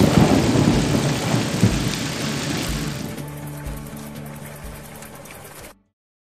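A sudden thunderstorm in an animated film: loud, steady heavy rainfall with deep rolling thunder rumbles throughout, gradually easing before cutting off abruptly.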